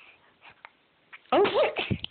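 A little girl gives one sudden, loud sneeze after a short run of quiet breaths and small sounds indoors.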